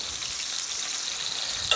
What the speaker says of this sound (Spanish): en esta cazuela estoy dorando los ajos y la asadurita